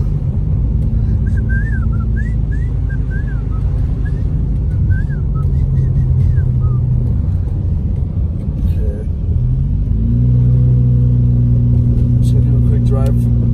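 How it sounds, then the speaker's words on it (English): Car driving up a snowy mountain road toward Big Bear at night, a steady loud engine and road rumble throughout, with the tone shifting partway as the engine changes load. "Just gonna do a quick drive up here by Bear."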